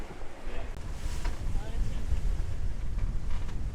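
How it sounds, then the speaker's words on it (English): Cold wind on a sailboat crossing the Sea of Cortez, a continuous rushing buffet of wind noise over the microphone with the low wash of the moving boat underneath. "We've got quite a cold Mexican wind, actually."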